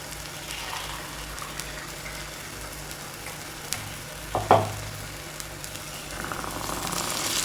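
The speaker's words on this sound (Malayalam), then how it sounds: "പുളിവെള്ളം ഒഴിച്ചു കൊടുക്കും." Tamarind water is poured into curry paste frying in oil for ginger theeyal, giving a short splash and burst of sizzling, followed by a soft steady fry and gentle stirring, close up with no talk.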